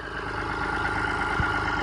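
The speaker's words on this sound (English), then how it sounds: "The engine runs as sweet as a nut." A Massey Ferguson 135 tractor engine idles smoothly and steadily nearby, a continuous low rumble with no voices.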